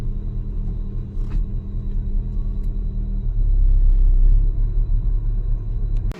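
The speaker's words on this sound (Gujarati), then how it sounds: "વરસાદ થોડો થોડો ચાલુ છે એટલે ગાડી લઈને જઈએ છીએ" A motor vehicle is driven through light rain, giving a loud, steady low engine rumble close by that swells in the middle. A few faint ticks and a brief clack sound near the end, with no talking.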